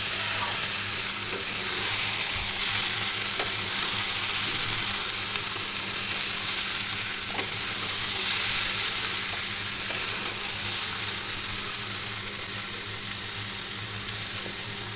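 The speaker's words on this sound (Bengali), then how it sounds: "দেখুন আমি খুব সুন্দরভাবে এটাকে নাড়ছি" Potatoes with spring onion and coriander are stirred in a frying pan, a steady, bright sizzle with occasional scraping knocks of the spoon, close and fairly loud, with no one speaking.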